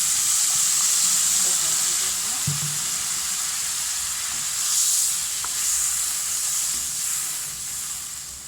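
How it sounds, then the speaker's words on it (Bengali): Water hits a hot frying pan where something has been frying for dal, and a loud steady sizzle and hiss fill the space before slowly easing off. "ভাজা হয়ে গেলে আর দিয়ে দেবো সামান্য পানি"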